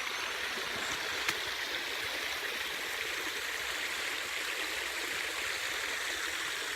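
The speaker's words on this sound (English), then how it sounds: "The sounds of running water" Running water flowing in a bush stream near a lake, a steady close-up rushing and gurgling hiss that holds even and continuous throughout, with no voices.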